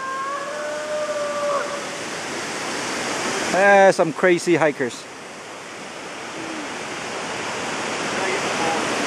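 Rushing water from Stewart Falls in Utah pours steadily as a loud, broadband roar through the whole stretch, with a short burst of nearby voices talking over it midway.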